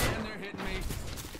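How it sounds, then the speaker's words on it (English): Rapid automatic gunfire from the video game Apex Legends, a dense burst of shots filling the short moment with a faint voice underneath. "he shot me through a wall"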